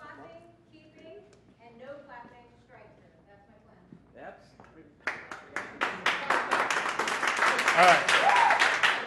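Audience applause breaks out at an idea-pitching session, a broadband clapping wash that starts abruptly after speech and swells louder and denser over several seconds, with voices audible underneath.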